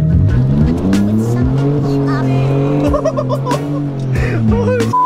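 A truck spins donuts on wet ground, its engine revving hard in rising and falling surges with tire squeal, loud and close throughout.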